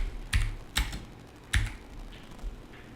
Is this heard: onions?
no